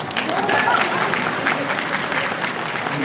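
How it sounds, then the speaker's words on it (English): Audience clapping at a live charity event honoring alumni, supporters and sponsors: a steady, dense wash of applause from many hands that holds evenly for about three seconds, mid-distance, with no voices over it. "Clap right there."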